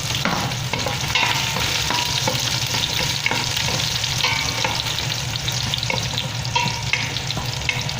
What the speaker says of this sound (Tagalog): Pwede na tayong maggisa ng bawang.